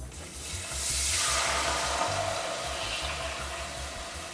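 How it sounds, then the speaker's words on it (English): Broad hissing sizzle of cream in a hot pan, steady and fairly loud, with a low hum underneath and no talking. "You hear that sizzle?"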